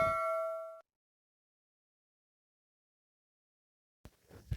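A bright subscribe-bell ding sound effect rings out once and clearly, then stops abruptly into silence. A short noise follows near the end.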